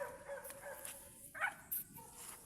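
A big dog barks near a mango tree, with a few short, sharp barks and yips at a moderate distance over quiet background noise.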